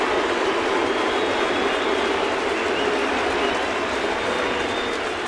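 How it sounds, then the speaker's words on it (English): A baseball crowd at Fenway Park roars for a Red Sox player on a hit into the corner in a 2013 game against the Yankees, a dense, continuous, loud cheer with no break. "And Kevin Youkilis is going to hear his first real Uke cheer."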